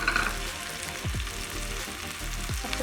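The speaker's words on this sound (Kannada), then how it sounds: "ಇವಾಗ ತುರಿದಿಟ್ಕೊಂತರ ಆಲೂಗಡ್ಡೆ ಎಲ್ಲನೂ ಹಾಕ್ತಾ ಇದ್ದೀನಿ" Grated potatoes for aloo palya frying in a pan, giving a dense, continuous loud sizzle with a couple of soft stirring scrapes.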